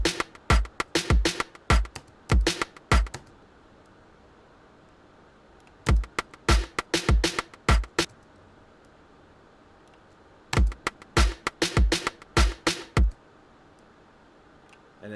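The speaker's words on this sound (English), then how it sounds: "So now we got our bounce snare in there" Bounce music drum beat with a snare added in, playing in short repeated bursts of crisp hits separated by brief gaps, loud and up close with no talking.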